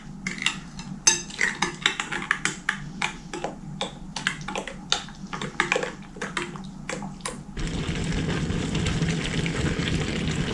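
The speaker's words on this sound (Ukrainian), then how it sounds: "Все це ретельно перемішаю і залью наш салат." A spoon clinks rapidly and irregularly while thoroughly mixing an eggplant vegetable salad for winter preserving. A steady, rushing pour of liquid follows, close and without talk.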